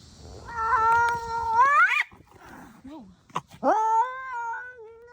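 A cat lets out long, rising, wailing yowls at a stray cat, two drawn-out aggressive cries separated by a brief pause with a short growl, loud and close.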